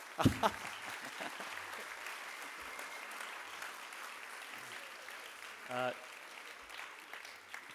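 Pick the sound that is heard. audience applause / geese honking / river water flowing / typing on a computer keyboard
audience applause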